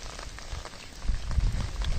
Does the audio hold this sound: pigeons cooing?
no